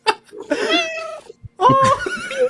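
A loud house cat meows repeatedly, with drawn-out, wavering cries that rise and fall, coming close and clear with brief pauses between calls.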